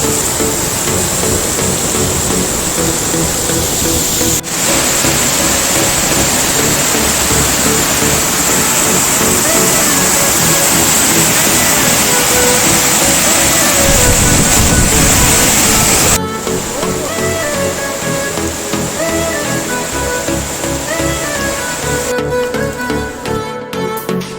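Roar of a 30-metre waterfall heard from close beneath it, a loud, unbroken wash of falling water with splashing that shifts in character partway through.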